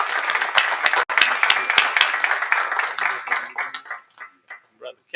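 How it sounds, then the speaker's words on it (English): Audience at a Southern University Board of Supervisors meeting giving a speaker a loud round of applause and clapping, which thins out toward the end into a few separate claps. "let's give him a huge round of applause"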